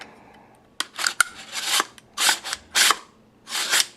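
An AR rifle bolt is checked and handled: sharp metallic clacks and sliding scrapes in short bursts, close and fairly loud, with brief pauses between movements and no talking.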